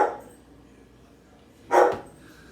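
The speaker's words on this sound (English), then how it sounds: "And Cooper is barking his mouth off." A dog named Cooper gives two sharp, loud barks about two seconds apart, close by in a quiet backyard garden with no voices.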